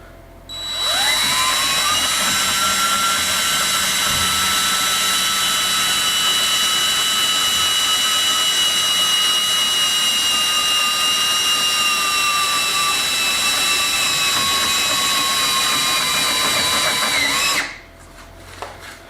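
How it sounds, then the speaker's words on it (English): A power drill bores through clamped metal for a shop press solar panel support, whining loudly and steadily for about seventeen seconds before cutting off abruptly, nearby and alone. "I'm just going to drill through now with the same size"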